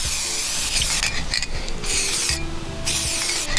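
Several loud hissing bursts of spray come in short blasts, with a busy clattering, rubbing mechanical texture running underneath and no speech.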